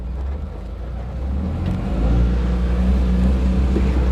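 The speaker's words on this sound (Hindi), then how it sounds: "क्लच लगा लिया मैंने, पहला गियर मैंने ले लिया है। पिकअप देखते हैं गाड़ी कैसा है।" A used truck pulls away in first gear, its engine droning low and close and swelling steadily louder as it accelerates, with no voices over it.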